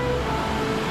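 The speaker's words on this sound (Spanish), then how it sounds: "Ese es el paisaje de las cascadas." The Ouzoud waterfalls in Morocco give off a steady, dense roar of falling water, heard briefly as constant broadband rushing without any speech.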